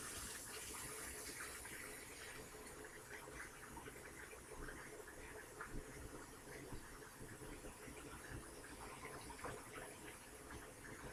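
Cold tap water runs steadily over hot hard-boiled eggs in a kitchen, a continuous gushing, splashing stream that holds at even strength throughout without pause.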